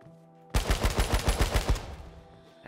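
Automatic gunfire in the online survival shooter H1Z1: a single loud, close burst of about a dozen rapid shots lasting under two seconds, then tailing off into quiet.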